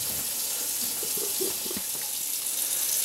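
Water runs steadily from a newly installed kitchen sink faucet, a constant close hiss and splash that continues without a break, with no voices.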